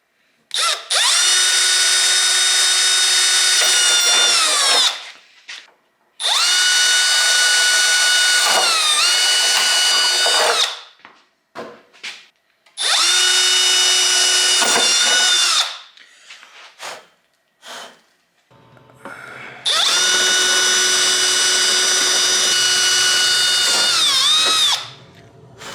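Power drill boring bolt holes into an interior part of an S14 car, four long whining bursts of several seconds each separated by short pauses, close and loud, with a steady pitch that dips as each bit bites.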